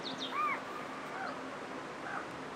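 Bird calls in the Stack the States video game, a few short chirps and a sweeping tweet over a steady electronic background, fairly faint and brief.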